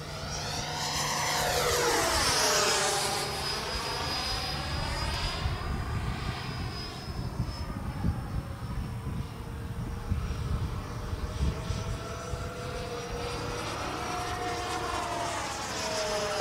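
An Avios MiG-17 Fresco RC jet fighter with a 90mm electric ducted fan and 1200mm span flies past, its high whining fan rising as it approaches, sweeping in pitch, then holding a steady distant whine.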